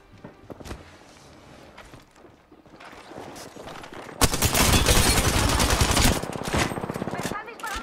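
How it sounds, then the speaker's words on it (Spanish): Gunfire in the shooter Apex Legends, building from scattered sharp shots into a loud, dense burst of rapid fire lasting about two seconds, then trailing off amid footsteps and game noise. "Te bajan con escopeta a la cara."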